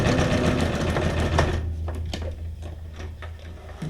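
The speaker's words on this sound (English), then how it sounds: "I've only used the sewing machine to sew things on or glue stuff together." Sewing machine runs in a fast steady whir of stitching, then slows to a few separate clicks and thumps as it stops.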